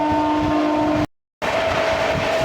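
An Amrit Bharat Express train running at speed through Shikohabad Junction, heard from inside a general coach as a loud steady rumble with a sustained tonal hum, broken by a brief cut to silence.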